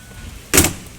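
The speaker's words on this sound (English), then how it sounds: "That power step is controlled by the screen door, not the big door." The powered side step of a vehicle, worked by the screen door, gives a short sharp mechanical clunk and whir lasting a fraction of a second against a quiet background.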